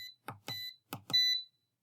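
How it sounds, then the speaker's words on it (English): Electronic buzzer on a homemade telegraph project beeping Morse code, four short clean tones followed by one longer tone, close and clear against silence. "So I added this buzzer, which is going to give us different tones for short dashes, long dashes, and transmissions."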